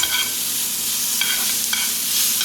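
Onions and tomatoes fry in a pan for a home breakfast, giving a steady soft sizzle with occasional stirring scrapes, close and continuous, with no voices.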